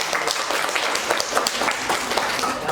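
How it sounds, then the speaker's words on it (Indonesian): An audience claps together in sustained, dense applause throughout, steady and moderately loud, with no talk, after a teacher-training practice session in Indonesia. "kita kasih aplaus untuk"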